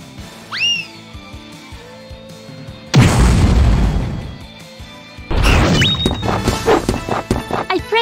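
Impact bomb special attack in the Grandia II video game: after a short whistling rise, a loud booming blast roars for a few seconds, followed by a second crashing burst with ringing tones and rapid rattling hits.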